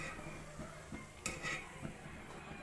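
Mathri dough of maida frying in hot oil while a utensil stirs it in a pan, a faint steady sizzle with occasional soft metallic scrapes and taps.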